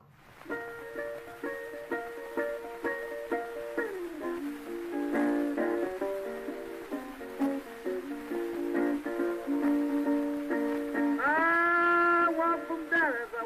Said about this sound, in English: I know the recording's old and scratchy,